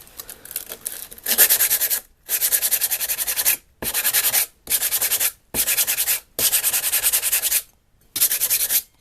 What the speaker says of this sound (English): 80 grit sandpaper on first.